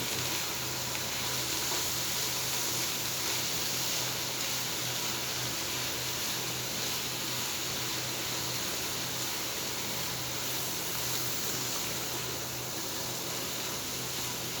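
Baby prawns cooking in a pan over a medium flame, with salt added, giving a steady, continuous soft sizzle that holds at an even level throughout with no one speaking.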